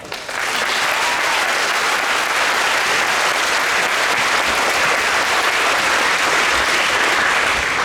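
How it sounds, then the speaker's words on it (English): An audience at a middle school symphonic band spring concert breaks into loud, sustained applause, a dense wash of clapping that starts abruptly and holds steady to the end. "Let's give them a round of applause."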